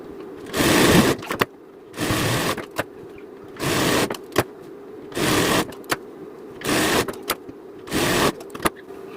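Sewing machine stitching tucks on a blouse, running in short bursts of about a second each, separated by quiet gaps and small clicks as the fabric is repositioned.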